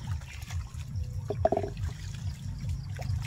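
Water trickles and splashes steadily during hand-washing of laundry in a rural province setting, with a few sharper splashes and faint background noise.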